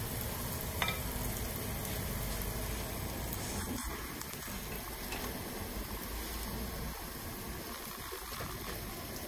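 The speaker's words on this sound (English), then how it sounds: "And meanwhile, chicken is being cooked here." Chicken pieces frying in coconut oil in a pan give a steady, dense sizzle that stays even throughout, with a few faint clinks of stirring.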